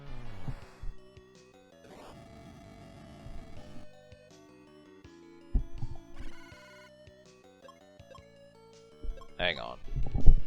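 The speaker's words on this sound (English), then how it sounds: "That's my phone, so I don't know if it's a spam call or what." A phone rings with an incoming call, its electronic tone sounding in short bursts beneath game music and someone talking.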